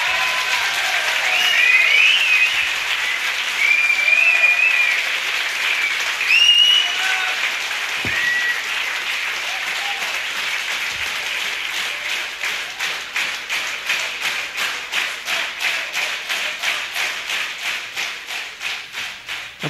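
Applause and cheering from an audience after a live rock band performance by a 1983 cellar band, sustained clapping that settles into a steadier rhythmic clap toward the end, with a few whistles early on.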